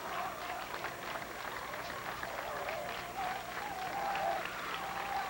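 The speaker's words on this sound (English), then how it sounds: "You can hear the Edwardsville crowd applauding in anticipation of one more out in a state championship." A crowd at a high school state championship baseball game claps steadily and continuously at a distance, a dense field of applause with some cheering mixed in throughout.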